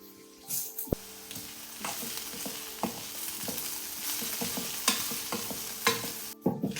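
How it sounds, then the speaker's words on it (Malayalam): Grated beetroot sautés over a medium flame in a pan, a soft continuous sizzle under repeated scraping and clinking strokes of a spoon stirring it, close and fairly quiet, without any talk. "ഇങ്ങനെ നമ്മളൊരു മീഡിയം ഫ്ലെയിമിൽ ഇട്ടിട്ട് ഇളക്കി അങ്ങനെ അത് വാട്ടിയെടുക്കണം"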